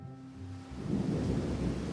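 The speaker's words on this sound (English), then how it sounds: "Oh man, it's starting to rain." Rain starts to fall during a tabletop game episode, a soft wash of patter swelling in after a moment and holding steady with a faint low rumble beneath.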